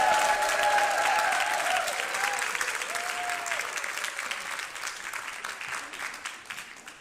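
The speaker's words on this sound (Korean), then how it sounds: "데이빗 킴 선교사님 앞으로 나오실 때 뜨거운 박수로 환영해 주시기 바랍니다." A church congregation gives warm applause welcoming missionary David Kim, steady clapping that starts loud and gradually fades over several seconds, with faint voices and a few sustained instrument tones underneath.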